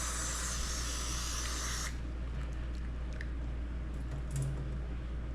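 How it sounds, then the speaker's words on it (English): Carb and choke cleaner sprays from an aerosol can onto a neglected Suzuki Quad Racer ATV, a loud steady hiss lasting about two seconds that cuts off abruptly, followed by low background rumble and faint clicks. "he was buying carbon choke cleaner in a spray can"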